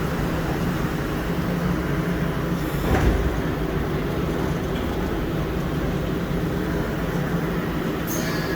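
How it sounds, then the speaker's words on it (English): A Montreal Metro train running over a damaged track section as it leaves manual mode, giving a steady loud rumbling roll with a brief clunk partway through and a faint high whine near the end. "you can hear the train now going to manual mode, or leaving manual mode"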